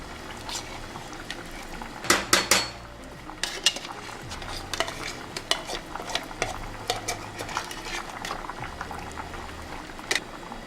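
Nigerian banga soup being stirred in a boiling pot, a spoon scraping and clinking against the metal while liquid bubbles steadily, with a few louder knocks near the start.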